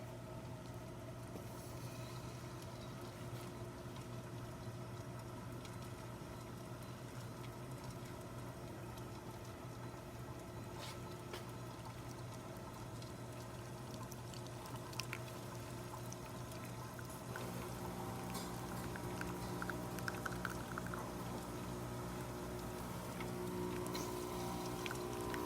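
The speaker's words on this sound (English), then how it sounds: "let's go ahead and make a shot." A Zacconi Riviera lever espresso machine pulls a shot, a quiet steady pouring trickle over a low mechanical hum that grows slightly louder partway through, with no talking.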